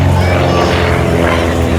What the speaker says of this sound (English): Powered by a 260 horsepower Lycoming flat six-cylinder engine